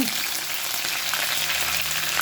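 Mustard seeds, crushed garlic and curry leaves fry in hot oil, giving a steady, close crackling sizzle with no voices.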